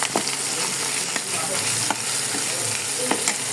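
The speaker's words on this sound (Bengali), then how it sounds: "পরিমাণ মতো রসুন বাটা, পরিমাণ মতো আদা বাটা দিয়ে আরও কিছুক্ষণ ভেজে নেব" Garlic and ginger paste fries in a pan with continuous close sizzling, broken by several scraping stirs of a utensil against the metal.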